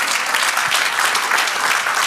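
A church congregation applauds during a sermon, a full, continuous patter of many hands clapping at steady volume with no break.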